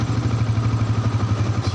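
A Yamaha Vixion motorcycle being diagnosed for a stalling fault runs after a restart, its engine settling into a close, loud, steady idle with a low, rhythmic chugging throb.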